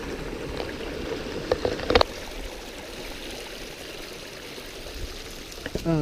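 A stream near Overall Run Falls flows with a soft, steady rush and trickle on a hiking trail, with a few faint clicks and knocks nearby.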